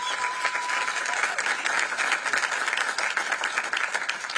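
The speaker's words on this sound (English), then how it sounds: "a round of applause?" Live audience at a mayoral debate in downtown Oakland's Town Fair space applauding steadily, a dense, even wash of many clapping hands close by with no one speaking over it.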